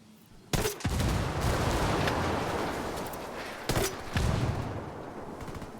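Bursts of automatic gunfire in Ghost Recon Wildlands, a loud volley near the start and another a few seconds later, each trailing off into a long rumbling echo and a steady roar.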